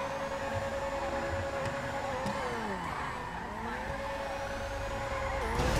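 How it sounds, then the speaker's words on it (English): In GTA 5, a car does donuts, its engine droning loudly while the tires squeal continuously, the pitch of the skid bending up and down as it circles. "You know it's good by the look at the donuts it could pull."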